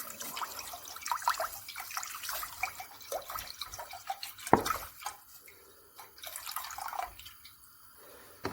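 Milk poured into a pot on a stovetop, heard as light trickling and dripping liquid with scattered small splashes and a clink, fairly quiet and close, with no talking.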